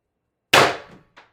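A single loud shot from an X-68 riot ball gun powered by a 36 g CO2 cartridge firing 10 g riot balls: a sharp close crack after silence that trails off quickly, followed by a faint clink.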